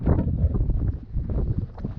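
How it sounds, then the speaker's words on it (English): Gusty wind on a high mountain trail along the Continental Divide near Grays Peak in Colorado, a loud, low rumbling buffet against the microphone that pulses steadily with no voices. "Pretty windy up here."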